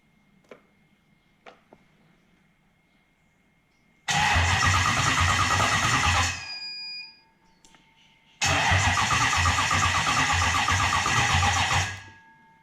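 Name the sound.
engine cranking on low battery with Link ECU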